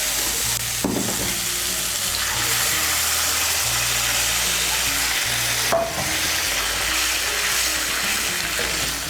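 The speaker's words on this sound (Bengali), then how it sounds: "এর মধ্যে আমি দিয়ে দিচ্ছি 1 কাপ গরম জল।" A cup of hot water is added to potatoes cooking in a pan, making a loud, steady sizzle with stirring scrapes and a sharper splash-burst midway through.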